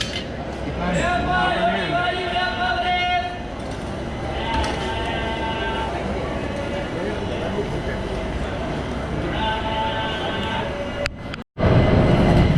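Karnataka Express passenger train in motion, a steady loud rumble of wheels and carriage with a clinking, rattling interior and passenger chatter throughout, plus a brief sharp dropout near the end.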